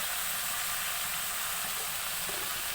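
Taro stems and green chilies fry in hot oil, a steady bright sizzle and hiss that holds constant and fairly soft throughout.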